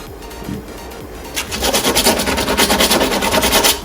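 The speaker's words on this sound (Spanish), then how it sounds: "lijo un poco el metal para que actúe la pintura" Rhythmic rasping strokes of sandpaper rubbing against metal kart parts, quiet at first then quick and steady, close by.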